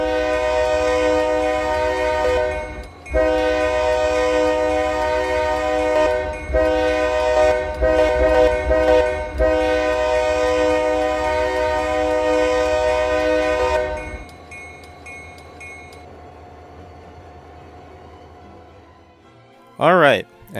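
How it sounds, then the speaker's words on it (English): A Canadian National locomotive sounds its K3L horn in the Ro-Scale Southline District game: several loud chord blasts of varying length over a rumbling engine, then the train rolls away quieter before a brief final noise. "their horns are equipped with the K3L horns"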